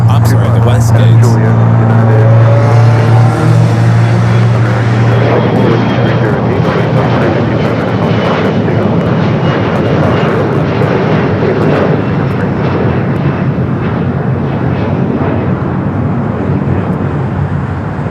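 A Philippine Airlines airliner taxis toward a west-side gate at LAX, its loud, steady jet engine roar filling the foreground while voices talk over it.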